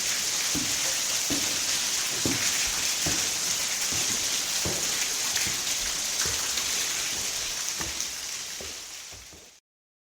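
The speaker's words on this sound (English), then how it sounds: "It had rained all night, and the smooth rocks were dripping all around us." Water drips steadily from smooth rocks in a gorge after a night of rain, scattered close drops tapping over a soft wet hiss, fading out at the end.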